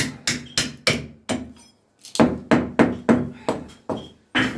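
Sharp hammer taps on a masonry cutter to knock a cut section of brick loose, about a dozen crisp knocks in two bursts with a short pause between, close and loud with no talking.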